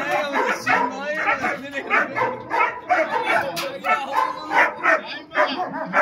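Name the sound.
dog barking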